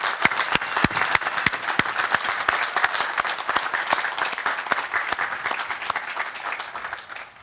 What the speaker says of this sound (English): give you a special round of applause